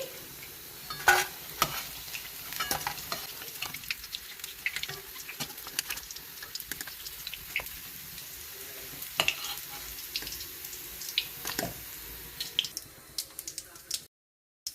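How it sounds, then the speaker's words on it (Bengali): Whole spices tempering in hot oil, a light crackling sizzle with scattered pops and occasional stirring scrapes, close by, ending abruptly in silence. "ফোড়নটা ভাজা হয়ে গেছে"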